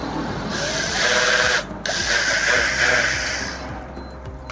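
A Black & Decker Multi Evo electric orbital sander, rated 0-8500 rpm, whirs steadily at high speed, briefly cutting out and starting again, its buzzing hum filling the space without any talk.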